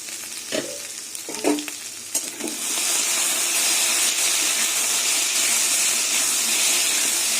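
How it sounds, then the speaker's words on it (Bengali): Pumpkin frying in a pan: a few clattering knocks as it is moved, then the lid goes on and a loud, steady hiss of sizzling and steam fills the rest. "এবার কুমড়োটা ঢেকে ঢেকে ভাজবো"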